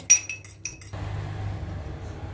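A fork whisking egg yolk with a spoonful of olive oil in a glass bowl, quick rhythmic clinks against the glass for about a second, then fading into a soft low background.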